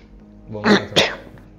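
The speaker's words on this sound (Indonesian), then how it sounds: "Pas kebetulan batuk juga sih." Two quick coughs in close succession, near and fairly loud, with a brief quiet before and after.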